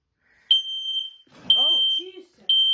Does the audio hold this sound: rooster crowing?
no